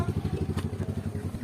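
A tractor engine runs close by in a steady, rapid chugging pulse that throbs evenly and loudly with no speech over it.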